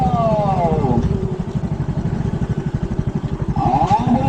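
A motorcycle chugs along a rough road with a steady, pulsing engine close by. People talk briefly over the engine.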